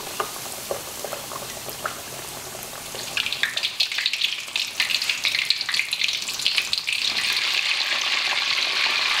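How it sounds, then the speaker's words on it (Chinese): Breaded squid deep-frying in oil heated to 150 degrees over low heat, a soft hiss that swells after a few seconds into a loud, dense crackling sizzle that holds steady to the end. "把鱿鱼放进去油炸"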